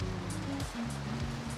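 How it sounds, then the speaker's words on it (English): Dense, steady hiss of heavy rain and wind heard from inside a greenhouse, with a low gusty rumble underneath, continuous and close. "it is pouring and windy and crazy raining."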